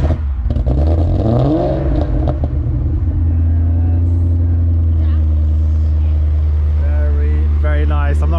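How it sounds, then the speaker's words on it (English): An Aston Martin V8 Vantage engine idles just after start-up at a classic car concours, making a loud, deep, steady rumble up close. Someone talks over it early on, and the engine note lifts briefly near the end. "The gentleman just started the car up."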